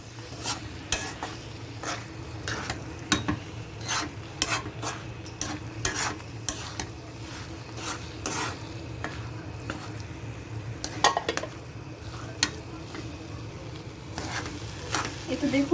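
A utensil stirs and scrapes boiled chana dal with spices in a pan, with repeated rhythmic scrapes and clinks over a low sizzle, close and fairly loud, while a person briefly speaks.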